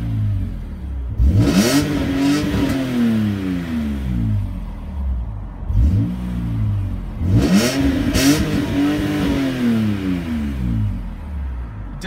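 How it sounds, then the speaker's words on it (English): BMW E46 M3 engine revved twice while stationary, each rev climbing sharply with a raspy exhaust note and then falling back to a steady idle, loud and close. "we'll finish with just some engine revs, because I know people want to hear what that exhaust sounds like"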